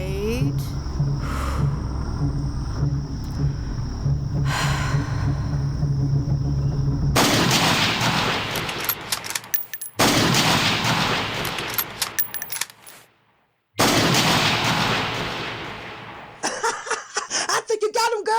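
Gunfire and mortar fire in a video game: loud, dense bursts of shots and blasts that start after several seconds of talk and continue in heavy waves with brief gaps.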